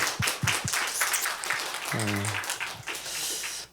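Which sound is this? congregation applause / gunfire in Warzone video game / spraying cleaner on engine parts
congregation applause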